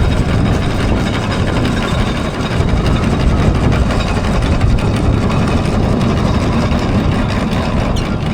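Burrell steam roller and Burrell road locomotive running together at a steam engine games event, a steady loud rumbling chuff and mechanical drone that holds without a break throughout.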